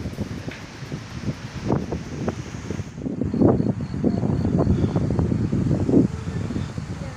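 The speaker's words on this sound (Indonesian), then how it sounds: "Wow, anginnya." Wind gusting across an overgrown hilltop at Bantir Hills, Sumowono, a steady broadband rush that swells and buffets the microphone in irregular bursts, louder in the second half.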